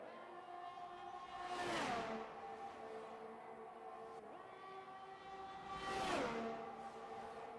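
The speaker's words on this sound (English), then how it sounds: "Look at this train of cars coming through there." Two Formula-style race cars in a racing video game on the Jeddah circuit roar past in turn, each engine whine rising and falling as it nears and fades, with a steady engine drone between the passes.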